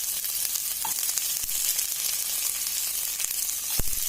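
Garlic and green chilies sauté over a lowered flame for garlic bhindi do pyaza, giving a dense, even sizzle throughout with a couple of brief stirring clicks and no voices.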